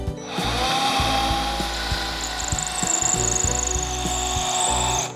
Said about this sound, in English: I am gonna go ahead and drill a pilot hole first